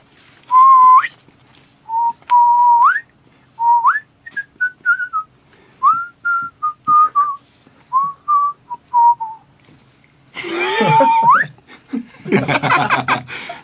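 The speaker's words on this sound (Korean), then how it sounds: "누리는 대로 나오는 휘파람" A man whistles a melodic tune near the mic in short, clear phrases, with light laughter and chatter in a radio studio toward the end.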